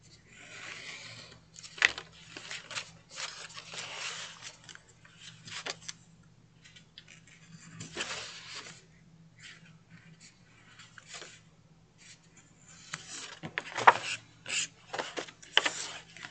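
Scissors cutting paper to make an envelope, a series of close, quiet snipping and rustling bursts separated by short pauses, louder and more frequent near the end.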